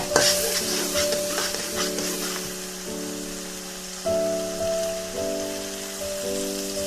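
Chinese water spinach is stir-fried in a hot pan: a loud continuous sizzle and hiss with stirring movement, accompanied by steady background music.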